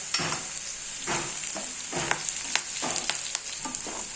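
Curry leaves go into hot oil with onions for a tomato chutney, raising a continuous close sizzle marked by repeated bursts of crackling and spoon stirring, roughly every half second, with no talking.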